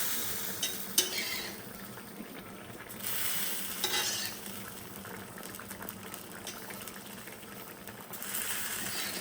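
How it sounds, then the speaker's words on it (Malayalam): Roasted grated coconut is stirred into a pot of yam (kachil) erissery, a Kerala curry. A steady bubbling simmer runs throughout, with scraping stir sounds coming and going and no talking. "നമ്മൾ നേരത്തെ വറുത്ത് വെച്ച ഒരു തേങ്ങ കൂടി ഇതിനകത്തേക്ക് ചേർക്കുവാണ് എരിശ്ശേരിക്കകത്തേക്ക് ചേർക്കുവാണ്"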